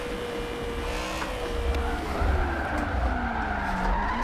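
Tires skid and squeal through an e-brake drift in a racing video game played on a Logitech G920 wheel, a continuous loud screech with shifting pitch over steady engine roar, building slightly in the second half.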